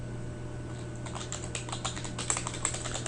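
Fingers tap on a computer keyboard in a quiet room, a quick, even run of soft clicks that starts after a second and continues to the end, over a low steady hum.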